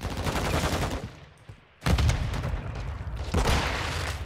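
Gunfire in Call of Duty MWII, with loud, rapid automatic bursts hammering through walls. The firing breaks off for a short pause, then resumes in sustained close bursts with no speech.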